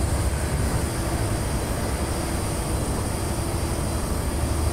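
A train passes in the Train Simulator 2017 video game on the Edinburgh to Dundee route of the Scottish East Coast Main Line, a loud, continuous rumble and rush that holds steady with no talk.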